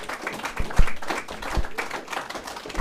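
A round of applause at a PEP rededication ceremony: scattered, uneven claps from a modest group, with a few sharper individual hand strikes standing out.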